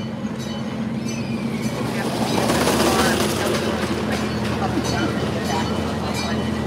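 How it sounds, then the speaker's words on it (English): A small amusement park train at Waldameer Park in Erie, Pennsylvania rumbles and clatters along the track with steady mechanical noise, and people talk over it. "We're on the train, taking a little bit of time on the train."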